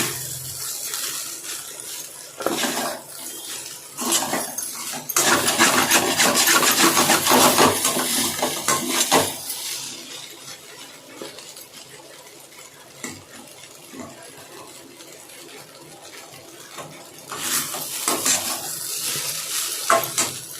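A spoon scrapes and stirs idli upma as it sautés in a metal pan, with intermittent rasping bursts and quieter stretches between them, close and without speech.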